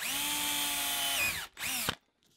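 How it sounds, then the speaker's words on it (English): A power drill boring quarter-inch bolt holes for a DIY GoPro backpack strap whines steadily up close, stops briefly, then spins down in a short second burst before cutting out. "Drill the holes at about a quarter of an inch so there's room for your bolt to go through"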